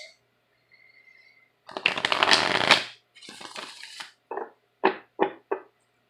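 A tarot deck is shuffled close by: a long dense riffle of rustling cards, a looser flurry of flicks, then several short crisp taps as the deck is squared, with no talking.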